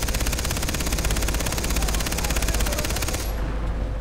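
Sustained automatic gunfire in the first-person shooter Far Cry 3, a loud, dense rattle of rapid shots that runs for about three seconds before cutting off abruptly into near silence.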